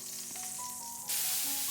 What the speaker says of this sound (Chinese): 在煎制的过程中，我们要不停地放动锅，不然的话很容易烧焦